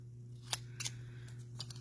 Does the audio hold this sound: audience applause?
no